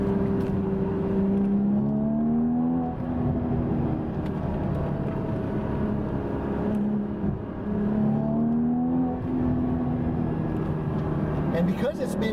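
A naturally aspirated Porsche Boxster GTS mid-engine flat-six climbs steadily toward redline in two long rising pulls, its tone sweeping upward before easing off, loud and continuous from inside the cabin, with a voice speaking over it.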